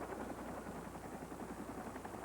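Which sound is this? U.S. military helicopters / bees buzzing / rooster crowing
U.S. military helicopters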